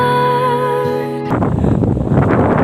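A tonal hum cuts off abruptly and gives way to loud, blustery wind buffeting the microphone in rough gusts, outdoors in Dapitan City.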